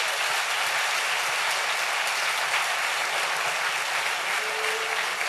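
Sustained applause from a congregation during a Spanish-language church service, a steady dense wash of clapping that stays loud throughout with no pauses.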